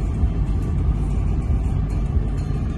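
On a highway near Adrasan in Turkey, a car overtakes, heard as a continuous road rumble and engine drone from inside a moving vehicle, steady throughout with no speech.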